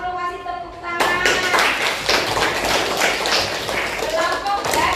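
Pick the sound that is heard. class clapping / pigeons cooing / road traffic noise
class clapping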